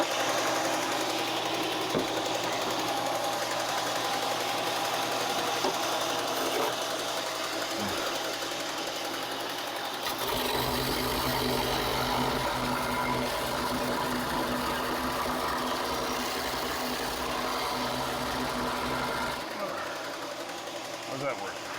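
An old belt sander grinding on a kitchen bench build runs as a steady, dense mechanical whir that continues throughout, with a brief shift in tone midway.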